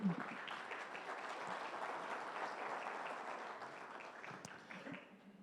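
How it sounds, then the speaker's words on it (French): Sustained applause from an audience, dense steady clapping that fades slightly toward the end. "Vous pouvez l'applaudir."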